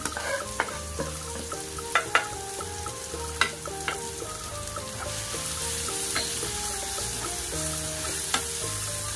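Okra frying with spices in a pan, a steady close sizzle broken by scattered scraping clicks of a spoon stirring, continuing without talk.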